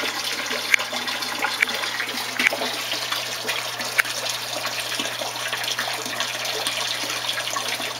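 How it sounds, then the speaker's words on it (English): Steady rushing water flows continuously during a partial water change of a low stock tank pond holding koi and goldfish, close and moderately loud with occasional small splashes. "I'm just doing my last partial water change of the stock tank pond."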